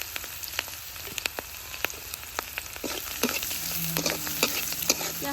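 Hilsa fish frying in hot oil with onion and green chili, a steady sizzling crackle with scattered sharp pops and occasional stirring scrapes, close and continuous.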